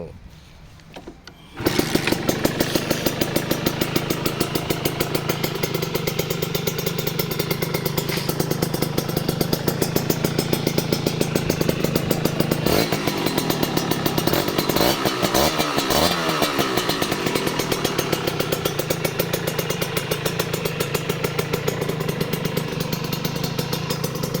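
After a brief quiet moment, a Kawasaki KR150 motorcycle engine starts and idles loudly and steadily up close, with a rough rattling rhythm and a short rev partway through.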